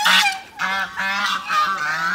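Hungry farm ducks calling loudly and close by in a rural Vietnamese yard, several harsh honking quacks in quick overlapping bursts with brief gaps, and no talking.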